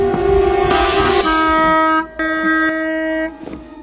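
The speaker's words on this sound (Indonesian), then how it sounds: "suara klakson mobil berbunyi" A car horn blares in long sustained tonal blasts, loud and close, cutting off briefly and sounding again before trailing away.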